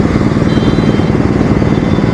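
Loud, steady rumble of a BMW R nineT motorcycle engine idling in Manila traffic, close up and continuous with no voices over it.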